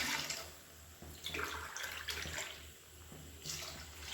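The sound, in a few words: pouring coconut milk and water into a pot for chicken biryani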